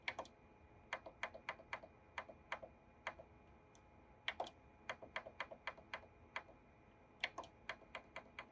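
Buttons are pressed on an OKI B433dn or B513dn printer control panel to enter a Wi-Fi password, giving a steady run of faint, close, single clicks at an irregular typing pace.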